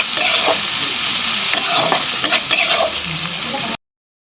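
Chopped onions fry in oil with whole garam masala in a pan, stirred with a spatula: a loud, close, continuous sizzle with intermittent scraping strokes, cutting to silence near the end.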